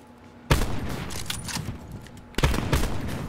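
Sniper rifle shots in a video game 1v1 match, two sharp blasts about two seconds apart, each trailing into a rumbling echo, loud and close.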